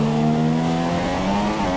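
F1 car engine in the racing video game F1 2017: a loud, steady droning engine hum with a slight rising pitch, heard alone.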